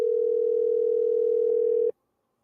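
A single telephone call tone from a call to a mother's phone, a steady pure beep held for about two seconds then cut off into silence, clear and close.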